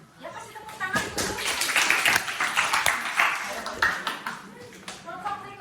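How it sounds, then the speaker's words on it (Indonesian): A small class gives scattered, uneven clapping after a group presentation. The claps are moderately loud and close, with people talking throughout. "Ya kasih tepuk tangan dulu."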